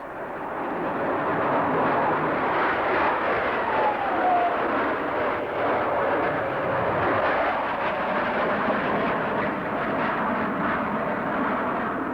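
A Lockheed F-104 Starfighter jet roars steadily through the air at an air show, a loud, dense, continuous rush with a faint rising whine partway through and no voices.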